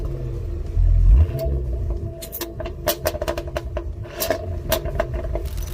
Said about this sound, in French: je veux que vous écoutiez la différence dans les sons de l'échappement